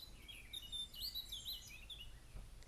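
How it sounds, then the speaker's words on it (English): Birds calling on an outdoor walk among trees, with faint, high chirps scattered over a quiet background hum, thin and distant rather than close. "The patterns of the birds cooing was synchronized with the other birds."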